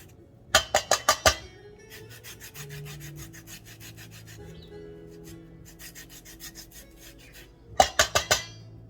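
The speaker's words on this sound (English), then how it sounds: "I'm gonna put some zest of orange and zest of lemon, and it will all come together just beautifully" Orange and lemon peel scraped on a grater for Moroccan couscous: bursts of quick, crisp rasping strokes close by, a fast cluster at the start and end with softer, steadier scraping between.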